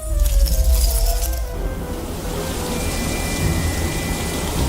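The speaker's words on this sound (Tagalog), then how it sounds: "Umuulan na nga!" Rain sound effect: a steady, dense hiss of falling rain fills the clip after a brief louder, brighter burst at the start.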